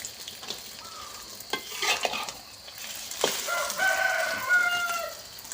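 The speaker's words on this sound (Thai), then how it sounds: "ทอดไข่เป็ดกับไข่ไก่ผสมกันจ้ะ" Steady crackling sizzle of mixed duck and chicken eggs frying in a pan, with stirring scrapes and a rooster crowing faintly in the background.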